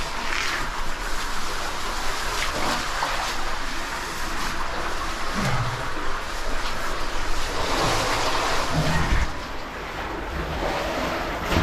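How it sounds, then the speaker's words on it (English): A river rushing and roaring through a cave passage during a river crawl deep underground, steady loud broadband water noise filling the space without pause. "Dude, it's a straight river."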